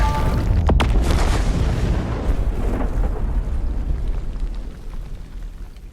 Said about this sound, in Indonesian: akhirnya tank musuh itu meledak